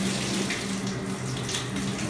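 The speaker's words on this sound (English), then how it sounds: "And we want to turn on the hot water." Hot water gushing from a faucet into a stoppered sink, a steady, loud, close rushing stream that runs unbroken throughout.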